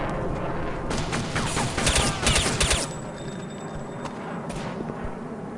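Rapid bursts of gunfire from the video game Counter-Strike: Condition Zero, dense volleys of shots clustered in the first three seconds, then sparser single reports, loud and close with no talk.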